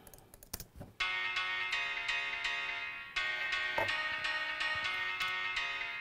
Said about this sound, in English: The delay on its own just sounds like this.